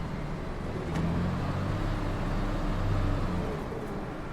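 A Leyland Olympian bus engine in the OMSI 2 driving simulator runs with a steady, close drone, swelling twice as it revs up and eases back, with no talking over it.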